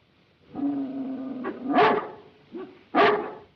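Dogs bark in a 1935 film scene. A drawn-out whine opens, then two loud, close barks follow about a second apart with a short yip between them, and no voices are heard.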